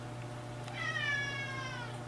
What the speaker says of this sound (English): I hope that you all just heard my cat scream at me